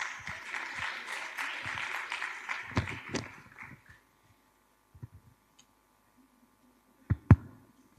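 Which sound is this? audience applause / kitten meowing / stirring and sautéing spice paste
audience applause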